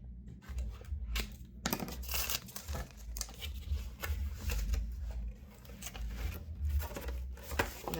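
Scissors cut and crinkle through plastic packaging wrapped around paper pads, producing close, busy snips and rustling tears throughout with a few sharper crackles.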